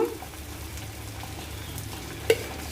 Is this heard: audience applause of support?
no